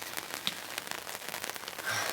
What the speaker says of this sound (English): experiencing some rain